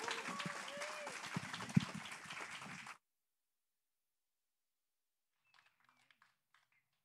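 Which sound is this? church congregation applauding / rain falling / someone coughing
church congregation applauding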